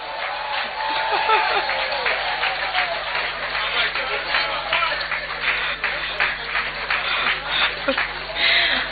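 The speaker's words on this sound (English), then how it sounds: "Shall we give him a round of applause?" Ghanaians gathered in Zambia to meet President John Mahama applaud in a hall, a busy spread of clapping hands running for several seconds with voices mixed in.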